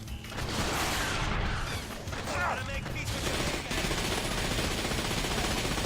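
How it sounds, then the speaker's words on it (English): Continuous gunfire in the shooter The Darkness, dense and loud, with overlapping shots and mechanical noise filling the whole stretch and a brief dip partway through. "You're also being shot at some more."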